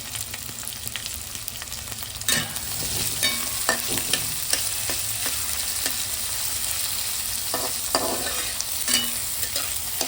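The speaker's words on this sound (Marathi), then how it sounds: "आजीने आता मस्तपैकी कांदा भाजून घेतला" Onions sizzle steadily in hot oil while a utensil scrapes and stirs the pan at irregular intervals.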